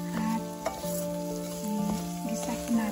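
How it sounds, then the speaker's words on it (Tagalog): Rice being stirred in a hot frying pan, a steady close sizzle with repeated scraping strokes of the utensil, no talking. "Ilalagay na po natin yung ating rice. I-mix po natin."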